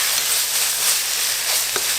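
Potatoes and spices fry in a pan with a steady, close hiss of sizzling oil and a few faint stirring scrapes, with no talking.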